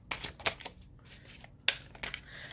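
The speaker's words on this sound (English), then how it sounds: "I'm going to shuffle." Tarot cards from the Journey into the Hidden Realms deck are shuffled by hand in a few soft, separate slaps and riffles, close and quiet, with pauses in between.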